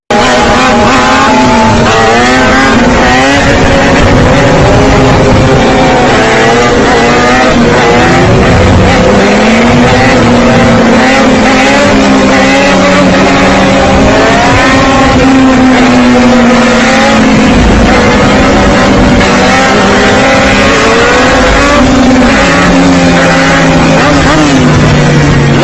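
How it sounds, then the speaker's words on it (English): Loud, continuous roar of a speeding motorbike in CCTV crash footage, a high engine whine rising and falling in pitch throughout, heavily distorted, with a faint voice in the background. "he was on a motorbike doing and giving a stunt"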